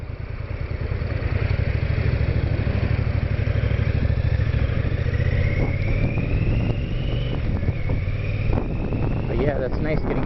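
A Triumph America motorcycle engine drones steadily and loudly while riding, with heavy wind rush and someone talking over it.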